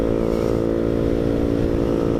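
A KTM 125 motorcycle ridden on a cold day gives off a steady, close engine drone with a rough low rumble, constant throughout and with no talk over it.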